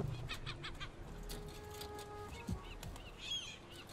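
Birds cluck and chirp in the video game Concrete Genie, a cluster of rapid fowl-like clucks under a low ambient hum with scattered chirps, fairly faint.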